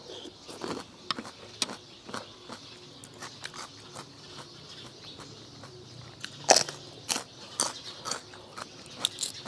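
Crunchy bites and chewing of spicy crab and fresh shrimp papaya salad with crisp vegetables: repeated sharp crunches at an irregular pace, close and fairly quiet, with no talking.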